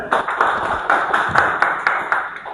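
An audience claps for a student who landed a job and a monthly UK client project: a quick, sparse run of hand claps, fairly close and bright, rhythmic and unbroken for a few seconds.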